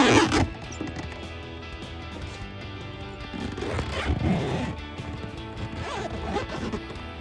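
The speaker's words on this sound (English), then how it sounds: "This thing's gonna zip right up." A zipper on a Jeep Wrangler JK soft top rear window drawn closed up close, a run of rasping, ratcheting strokes over steady low background noise.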